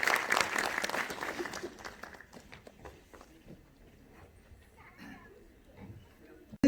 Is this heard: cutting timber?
no